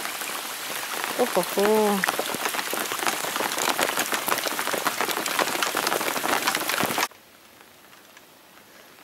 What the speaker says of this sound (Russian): А дождь все идет и идет.